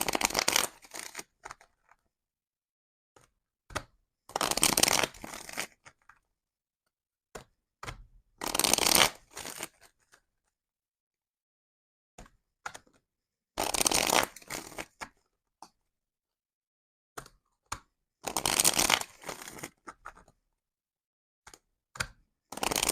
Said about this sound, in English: I'm now going to be shuffling these cards